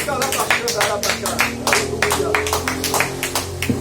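Congregation in church clapping in a steady rhythmic beat, sharp repeated claps close by over a droning organ-like tone and voices.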